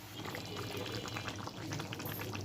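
Meat drops into hot oil with a steady, crackling sizzle and bubbling, continuous and close throughout.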